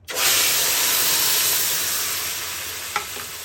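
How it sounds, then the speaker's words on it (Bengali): Spice paste hitting hot tempering oil, an abrupt loud hissing sizzle that bursts in and then holds steady while slowly easing, with one brief scrape near the end, close and without speech. "মশলাটিকে কষিয়ে নিচ্ছি"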